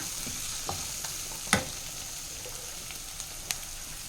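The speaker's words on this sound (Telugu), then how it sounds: "ఒక రోస్టెడ్ బ్రౌన్ వచ్చే వరకు ఈ ఉల్లిపాయలను కలుపుదాం" Onions stirred and fried in a pan until brown for boiled egg curry, a gentle continuous sizzle broken by a few sharp spoon scrapes and taps, close and quiet.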